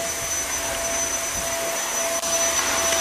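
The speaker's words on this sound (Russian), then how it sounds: "Кто-то пылесосит." A vacuum cleaner runs nearby with a steady, loud broadband whoosh and a thin high whine, continuous throughout with only a brief dip near the end.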